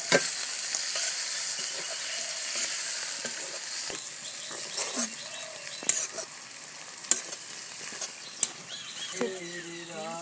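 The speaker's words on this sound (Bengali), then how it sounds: "বেগুন আর আলুগুলো ভাজা আগে থেকে লাল লাল করে এগুলো দিয়ে দিচ্ছি" Fried eggplant and potatoes go into fish oil, a Bengali dish cooked from fish fat, and sizzle in a steady close hiss, with scattered utensil clicks and a few sharp knocks. A voice is briefly heard near the end.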